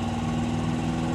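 An International Harvester Scout II engine revs under added throttle, a steady, loud drone with a strong low hum, heard close and continuous without talk.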